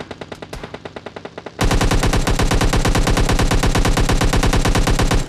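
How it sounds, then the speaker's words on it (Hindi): Rapid automatic gunfire in PUBG Mobile Lite gameplay rattles off in fast, regular bursts, first a lighter string of shots and then a louder, denser sustained volley close by. "देखो अपार्टमेंट की तरफ से भी गोली चली"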